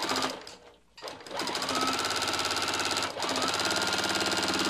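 A sewing machine doing free-motion quilting on fabric runs in a fast, steady stitching rhythm, close and loud, with a brief slowdown near the start and a short dip partway through.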